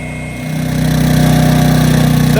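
A small engine-driven water pump on an off-grid property, pumping spring meltwater, runs steadily and close by: a loud, even, buzzing motor hum with a rapid regular pulse that builds slightly in the first half second, then holds constant with no talking.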